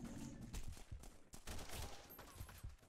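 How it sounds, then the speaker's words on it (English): Rapid bursts of gunfire from The Punisher video game, loud and overlapping in a dense fusillade with several shots clustered over a few seconds, no talk. "Yo, who's shooting me?"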